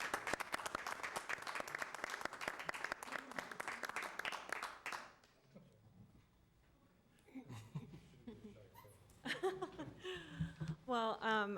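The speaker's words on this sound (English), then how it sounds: "So please join me in giving these 4 individuals a round of applause" Audience applause at a school board meeting in Bloomington, honoring a campaign team: about five seconds of steady, dense clapping with scattered laughter, then fading into quieter room noise and a voice starting to speak.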